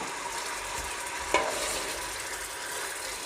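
Curry paste being stirred into coconut milk for a Thai beef massaman curry, a steady soft sizzling, bubbling texture from the pot with one brief scrape or clink near the middle, no talking.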